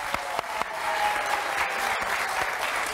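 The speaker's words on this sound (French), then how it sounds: "Allez, venez nous rejoindre, on peut l'applaudir." An audience at a gathering welcomes a club president with applause that begins with a few scattered claps and swells into steady, moderately distant clapping filling the room.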